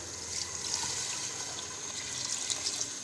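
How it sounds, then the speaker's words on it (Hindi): Water pours steadily into a biryani pot along with washed beef meat, a continuous close splashing rush of one litre of water filling the vessel, with no voices. "साथ ही इसमें 1 लीटर पानी शामिल करेंगे"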